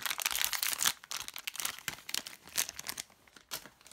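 Crinkling and tearing of a foil blind bag holding a Sorgenfresser series 2 collectible figure, a close, steady run of crackly rustles with several sharper crunches and no talking.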